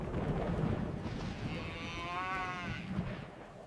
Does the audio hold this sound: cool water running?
no